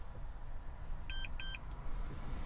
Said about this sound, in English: we'll hear it beep to let you know programming started